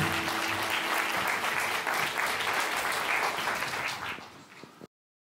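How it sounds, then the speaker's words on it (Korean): Warm audience applause rings out at a church appointment ceremony for an Israel goodwill ambassador, steady clapping from a crowd for about four seconds before fading and cutting to silence. "축복과 우리 사랑의 박수를 올려"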